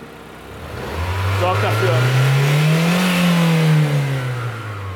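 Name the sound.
car engine revving as throttle is applied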